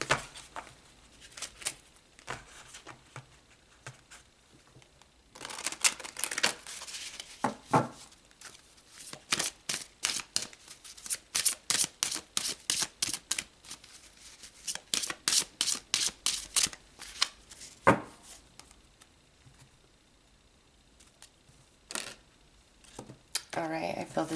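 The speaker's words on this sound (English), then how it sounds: "Let's pull some more cards." Tarot cards being shuffled nearby come as bursts of quick, crisp riffling flutters, repeated in clusters with brief pauses and soft handling sounds between them.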